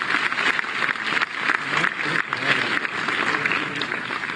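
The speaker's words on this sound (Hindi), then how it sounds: "तालियों से स्वागत कीजिए" Audience at an official public event applauds to welcome district officials, with loud, dense, continuous clapping that stays steady throughout.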